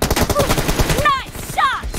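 Gunfire in a first-person shooter video game, rapid repeated shots rattling continuously and loudly throughout, with a voice speaking over the shooting.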